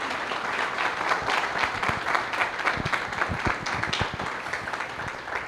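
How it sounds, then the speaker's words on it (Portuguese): A church congregation gives a warm round of applause during a worship service, steady dense clapping that fills the room at moderate loudness from start to finish. "Vamos dar uma salva de palmas?"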